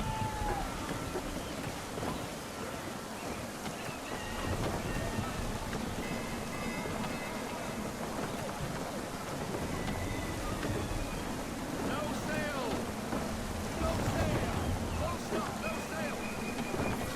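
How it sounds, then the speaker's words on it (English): Gusty wind at sea in Assassin's Creed 3 blows steadily over a sailing ship with a constant rushing roar, waves and creaking beneath, while voices speak now and then. "Gusty winds can be difficult to manage."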